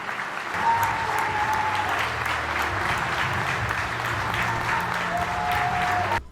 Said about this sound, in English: Let's give another round of applause for Miss Denise Marshall.